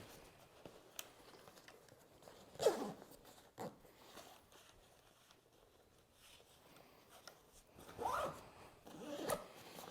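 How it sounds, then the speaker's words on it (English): A saddle hunting bag for a Tethrd Phantom saddle zipped shut after the bat and quiver are packed inside, with a few short rasping zipper pulls in quiet surroundings, the louder strokes landing near the start and near the end. "And we zip it up."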